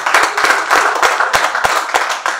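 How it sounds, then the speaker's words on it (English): Audience clapping in warm, steady applause at a community reception for the Nigerian High Commissioner, dense overlapping hand claps with sharper individual claps standing out, no talking over it. "Please round of applause as well."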